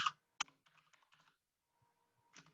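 Keys tapped on a computer keyboard in short, quiet bursts of clicks with pauses in between, close and faint in an otherwise silent room.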